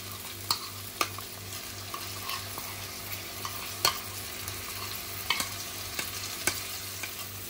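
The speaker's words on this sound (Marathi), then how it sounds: "आता आपण मसाले घालूया जे दहीमध्ये मिक्स केलेत ते।" Yogurt-mixed masala spices sizzle and frying okra is stirred in a pan, a steady low crackle broken by sharp scraping clicks of the spoon every second or so, no voices.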